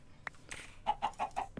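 Minecraft chickens cluck in short nasal bursts, about four quick evenly spaced clucks in a row after a few scattered clicks, moderately loud and close, with no talk over them.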